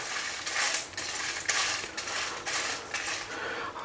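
Spices for achari masala, including nigella seeds, roast slowly over a low flame while a utensil scrapes and stirs them around the pan in repeated rhythmic strokes, close and clear with no talk.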